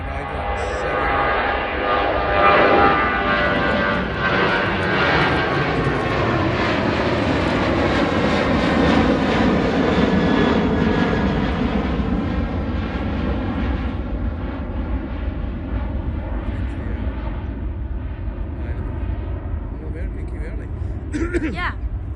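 A passenger airplane at Edinburgh airport roars steadily and loudly, engine noise swelling and slowly fading as it passes, with tonal whine over a broad rumble.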